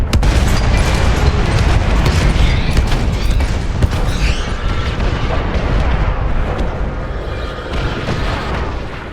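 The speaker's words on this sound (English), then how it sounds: "the German artillery barrage was deadly effective" A German World War One artillery barrage: a dense, continuous roll of heavy booms and rumbling blasts, loud and overlapping, easing slightly toward the end, with no voices.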